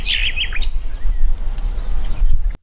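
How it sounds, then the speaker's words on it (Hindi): A little bird chirps in a quick burst of high tweets at the start, over a low rumbling background that continues afterward. "चिड़िया भी अपने घोंसले से बाहर निकलकर चहचहाती है।"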